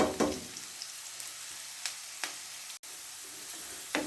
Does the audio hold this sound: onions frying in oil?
yes